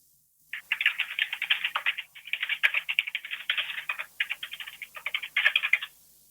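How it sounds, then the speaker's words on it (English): Computer keyboard typed on in quick bursts of crisp, close clicks with short pauses between runs, heard over a phone line. "That is a nice sounding keyboard."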